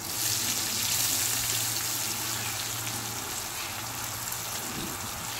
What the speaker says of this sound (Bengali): তারপর দিয়ে দিচ্ছি কেটে রাখা পেঁয়াজ কুচি